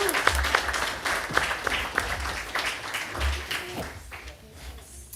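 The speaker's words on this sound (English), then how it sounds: "Let's give her another hand clap." A round of hand clapping at a school board meeting, moderately loud and continuous with individual claps standing out, tapering off toward the end.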